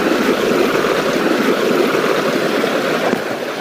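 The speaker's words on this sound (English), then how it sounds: "So we now have a good level of water coming out of there." River water pours steadily and loudly out of a pipe at a gold prospecting site, a close, continuous rushing gush with no voices.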